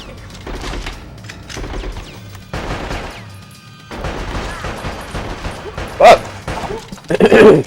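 Gunfire in Bad Boys Miami Takedown on PS2, with scattered shots and bursts among game noise, a few sharp loud cracks near the end and talking throughout.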